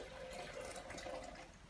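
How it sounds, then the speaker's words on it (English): A Pau d'Arco and cat's claw tea base is poured into a container as part of a candida elixir, a steady, soft liquid stream running through the whole moment, faint and close, with no voices. "Let's pour in our tea base of Pau d'Arco and cat's claw."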